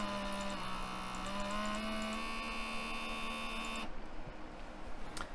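A Lego 9V motor driven by a Mindstorms RCX runs with a steady electric whine whose pitch steps and shifts as the speed changes, then stops, leaving quiet background noise.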